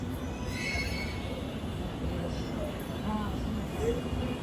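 A metro train rumbles low and steady as it pulls in, with faint wheel squeals and people talking quietly nearby.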